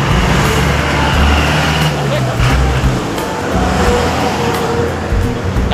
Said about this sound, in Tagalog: Dami sasakyan, guys.